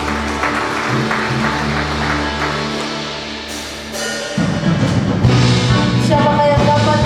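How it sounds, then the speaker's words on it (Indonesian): Applause from a church congregation during a worship service at GBI Bethany Makale: steady, loud clapping over about seven seconds, blended with music from instruments that swells and changes partway through. "Sekali lagi berikan tepuk tangan buat Tuhan."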